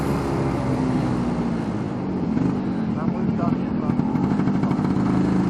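An old Lambretta scooter's small engine runs steadily throughout with a buzzing, putting drone and road rush, while a voice talks faintly underneath, riding along the Lysefjord in Norway.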